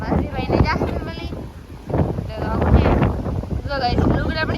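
Strong outdoor wind buffeting the microphone, strong enough to blow up dust, during a family's net-fishing outing; gusty rumbling noise runs throughout under people talking.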